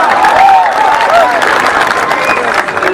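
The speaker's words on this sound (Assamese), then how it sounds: "হাত চাপৰিটা দিবনে?" Loud crowd applause and cheering at a live stage show, continuous and close, with a voice or music tones weaving under the noise.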